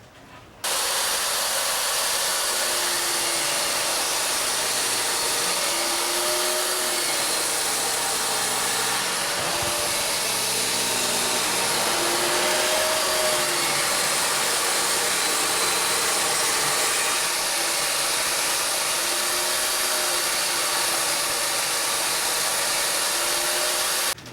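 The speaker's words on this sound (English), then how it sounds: "a little bit of work with the table saw and the router" Table saw and router cutting a board for a truck bed workbench, a steady loud whine of power tools running continuously for the whole stretch, with no voices.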